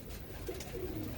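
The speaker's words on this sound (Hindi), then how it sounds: "यही कबूतर है।" A champion racing pigeon coos softly and close by, a brief low warbling call rising out of a quiet background.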